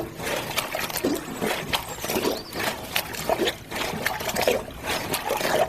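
Water trickles and splashes irregularly as a container is filled, a close, uneven dribbling with small bursts and bubbling that continues throughout.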